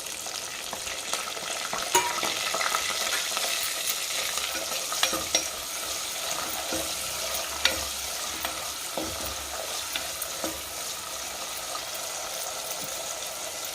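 Large onions fry in hot oil with crackled mustard seeds for a lemon moong dal rasam, a continuous sizzle with stirring scrapes and occasional pops.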